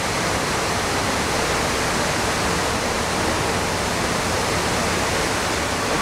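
Waterfall at the 9/11 Memorial pools in New York, a constant broad wash of falling water, steady and unbroken throughout, heard at moderate distance without talk.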